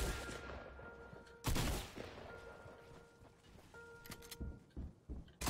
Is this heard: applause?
no